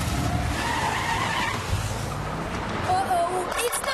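A self-driving fire truck skids around a racetrack, tires squealing loud and close under speech for the full few seconds.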